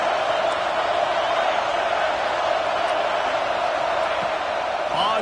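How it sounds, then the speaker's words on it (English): A home crowd at a college football stadium, Clemson versus Oklahoma, keeps up a loud, sustained roar of cheering from the stands, a continuous wash of noise with a broadcast voice talking over it. "how nice is it to have the home crowd going absolutely bananas?"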